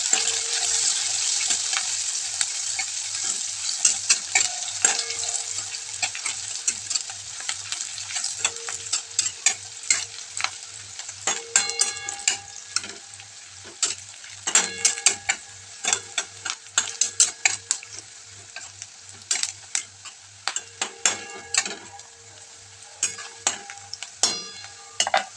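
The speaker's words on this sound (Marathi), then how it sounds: "तो आता कांदा पण छान तळून घ्यायचा" Chopped onion frying with garlic in a pan for a spinach dish, a steady sizzle broken by frequent scraping stirs of a spoon against the pan, close and clear with no talking.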